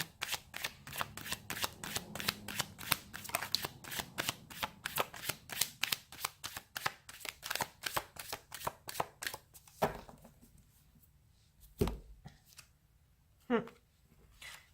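Rapid riffling tarot card shuffles, a dense run of crisp flicks for about ten seconds, then a few isolated snaps and taps in near-quiet.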